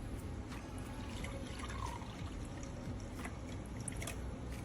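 Water running and pouring for mixing a PetLab Co. dog dental formula, a faint continuous trickle and splash at low level.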